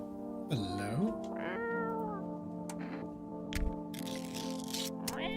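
A house cat meows repeatedly in a quiet indoor space, a couple of clear rising and falling cries up close, with some faint clicks and rustling around them.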